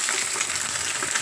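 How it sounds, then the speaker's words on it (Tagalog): Dried fish (daing) frying in a new, fairly large pan, a steady close hiss and crackle of hot oil with no pauses and no voices. "ito na ang aking ipipritong daing"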